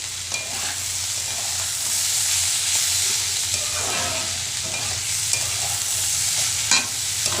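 Cauliflower sizzling in a pan as it is stirred near the end of cooking, a steady frying hiss with intermittent spoon scrapes and light knocks against the pan.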